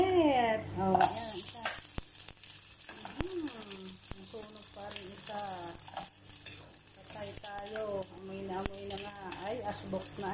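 Dried fish (daing) sizzles and crackles in hot oil in a steady, continuous fry while a person talks over it.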